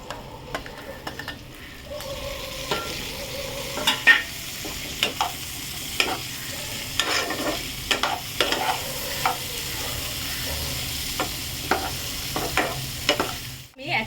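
Capsicum sizzles softly in a hot pan as it is stir-fried, with a low steady frying hiss under scattered sharp clinks and scrapes of a spatula against the pan, close by and moderately quiet.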